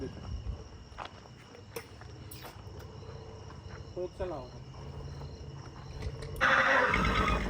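A mare whinnies in short bursts amid crickets and rustling footsteps, followed by a loud burst of noise at the end.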